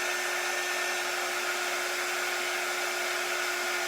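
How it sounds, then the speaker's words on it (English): A small heat tool dries a chalk paste design in a steady, loud, unbroken blowing whir with a fixed tonal hum, close up and alone. "I love this little heat tool that we have."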